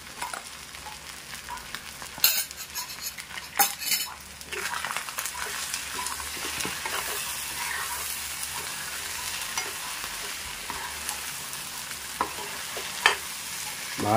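Chili powder being stirred into a frying spice mix, a steady close sizzle with irregular scraping strokes of a spoon against the pan, a few sharper clanks early on, no voices.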